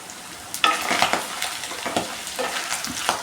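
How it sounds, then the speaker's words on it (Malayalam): A spoon stirs beef fry with cashews in a pan, giving scraping and rustling strokes over a steady soft sizzle, close and without any voices. "ബീഫ് ഫ്രൈ ആയിട്ടുണ്ട്. അതൊക്കെ ഒന്ന് ഇളക്കാം."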